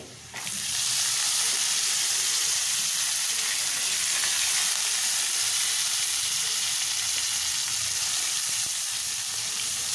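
Washed broad beans hitting hot oil with turmeric tempering, a loud, steady sizzle that flares up at once and holds evenly with a bubbling hiss.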